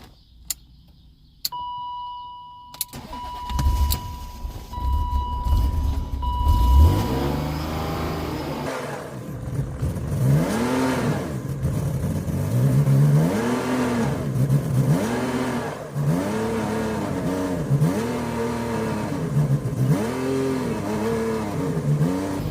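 BMW E36 engine with mass airflow and idle control trouble, cranked over after a few clicks and chimes, then catching and settling into a rough, rising-and-falling idle that surges repeatedly.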